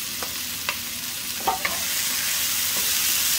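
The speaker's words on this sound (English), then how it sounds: "add the garlic" Garlic sizzling as it is added to a hot frying pan, a steady hiss rising after a few soft scrapes and taps of stirring, close and without talk.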